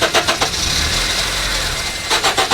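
A car engine cranks with a few rapid starter pulses, catches and idles roughly for a moment, then more sputtering cranking bursts follow near the end; close and loud with no voices.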